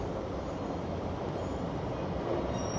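An inbound Via Rail passenger train passes through a busy downtown rail corridor at rush hour, a brief steady rumble of rolling cars at moderate loudness with no talk.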